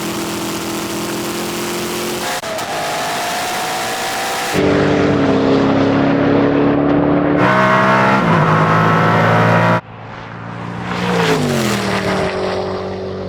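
A Koenigsegg Regera and an Agera RS launch side by side in a drag race, loud close engine roar with rising revs, abrupt cuts between shots, and a rising whine from a hard run.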